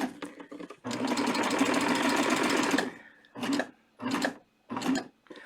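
Serger sewing elastic onto baby shorts runs in a steady burst for about two seconds, then gives three short stitching spurts with brief pauses between, close and loud.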